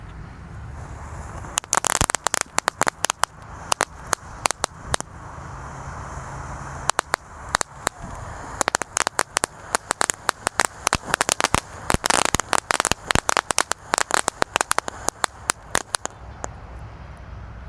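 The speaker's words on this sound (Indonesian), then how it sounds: "Kita lanjutkan menyalakan mercon beauty fountain." Beauty fountain firework set against a sand pile, crackling in dense bursts of sharp pops and snaps that come in irregular flurries over a steady hiss, close and loud throughout.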